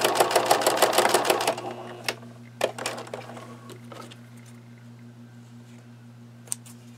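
A sewing machine stitches through bulky denim from blue jeans, starting with a fast, loud, steady run of needle strokes. It then slows into scattered clicks over a constant low motor hum.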